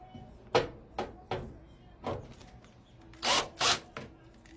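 A series of separate scraping, clicking bursts, like a screwdriver turning screws out of a Samsung dryer door one at a time, close up, with short pauses between them.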